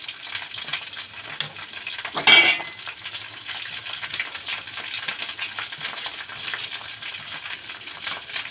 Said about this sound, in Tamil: வெண்டைக்காய் போட்டுங்க கொஞ்சம் நல்லா டீப் ஃப்ரை ஆகும்